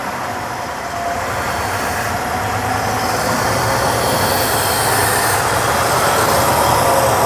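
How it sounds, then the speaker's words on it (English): A loud, steady roar from a 1971 Chevrolet C10 pickup's inline-six engine being revved gently fills the whole stretch, rising slightly in intensity toward the end, with no talk over it. "Liam, give it just a little bit of throttle, slow."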